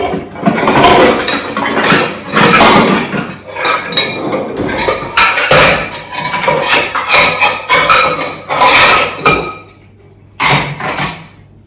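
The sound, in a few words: putting jackfruit pieces into pressure cookers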